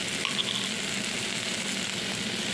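Spices and chili powder, loosened with a splash of water, fry in a pan for a chana dal with jackfruit, giving a loud, continuous close-up sizzle.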